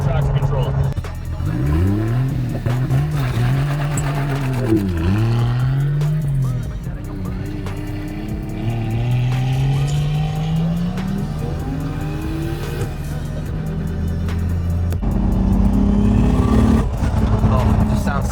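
A Fast & Furious tribute Toyota Supra drifting on ice with traction control off, its engine revving up and down in sweeping waves and tires squealing, loud and close throughout, with occupants talking over it.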